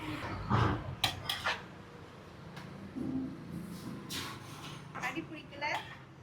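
Biryani is mixed in a large pot, with metallic clanks and scraping in irregular bursts, some sharp and some softer, under a voice speaking nearby.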